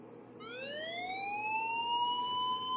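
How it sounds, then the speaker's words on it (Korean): A rising electronic siren-like alarm tone from a phone alarm app sweeps upward and then holds a steady, piercing pitch, loud and alone. "랜덤으로 알람 소리가 재생되는 알람 앱을 만들었습니다."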